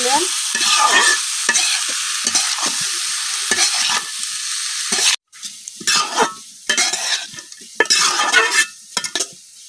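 Potatoes and red lentils with spices are stirred in a hot pan, with a spoon scraping and clattering against the cookware over a continuous frying sizzle, in uneven bursts of stirring and no talking.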